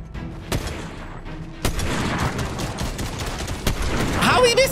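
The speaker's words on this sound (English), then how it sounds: "We have got an epic sniper rifle." A sniper rifle fires in a video game, giving three loud, sharp single cracks spaced well apart over busy in-game noise and some voice.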